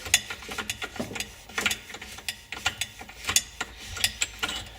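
Ratchet on a fuse in a classic car's engine bay, rapid clicking bursts in uneven strokes, close and crisp, with short pauses between turns.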